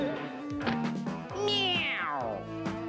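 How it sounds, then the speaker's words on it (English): A cat meows several times in a row, close and loud, the longest cry rising and sliding down in pitch near the middle. "Meow."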